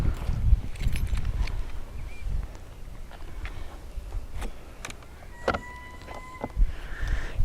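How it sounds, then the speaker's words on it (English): Electric car being unlocked beside a home smart charger, heard as a few clicks and short mechanical clunks with faint electronic beeps over low background rumble, fairly close and with no talking. "First of all, we have to unlock the car."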